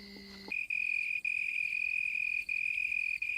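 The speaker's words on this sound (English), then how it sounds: "The leaf is the cricket's soundboard, and the sound produced is magnified in intensity as much as 3 times." A cricket chirps at night in the African bush, a steady high continuous trill that starts abruptly and runs close and loud with only brief breaks.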